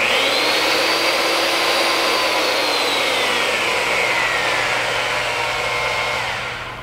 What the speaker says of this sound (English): Press the trigger switch for a second time and hold to return to the 0 degree starting position